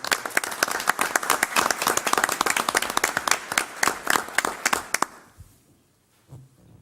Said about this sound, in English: a round of applause for Herschel